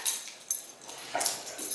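A dog moans and whimpers in a few short, high-pitched whines rather than barking, close by and fairly quiet, with brief pauses between each cry.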